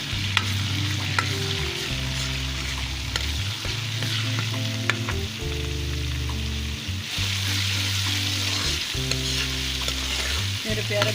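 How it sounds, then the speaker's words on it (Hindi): Garlic ginger paste frying in a pan for a white lobia and chicken kaleji curry, a loud steady sizzle with stirring scrapes throughout, close up and without talking. "इसको फ्राई करूँगी।"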